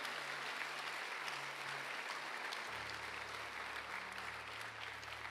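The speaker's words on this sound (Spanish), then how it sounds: "Dele un aplauso al Señor esta mañana" A church congregation claps steadily through a Spanish-language Sunday morning service, dense sustained applause filling the room with no voices rising above it.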